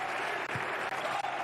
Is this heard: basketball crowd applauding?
yes